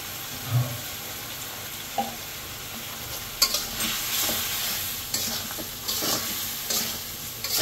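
Cauliflower and potato with salt, turmeric, chili and coriander powders sizzle in a pan while a spoon stirs and scrapes steadily. Occasional louder clacks of the utensil rise over the continuous close frying hiss, with no voices.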